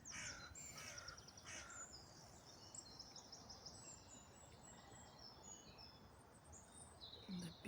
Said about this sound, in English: And the beautiful crow right at the top of the tree over there.